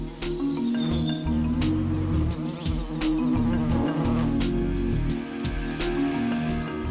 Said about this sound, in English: In a frenzy of passion, the wasps struggle to mate.